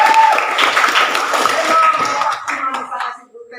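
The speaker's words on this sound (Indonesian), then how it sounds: "Tepuk tangan." A classroom of students bursts into applause, dense clapping from many hands filling the room before tapering off near the end.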